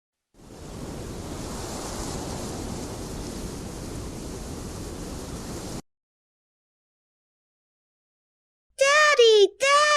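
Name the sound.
wind blowing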